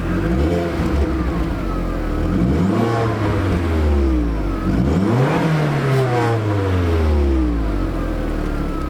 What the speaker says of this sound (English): We just put 110 miles fuel in by revving it.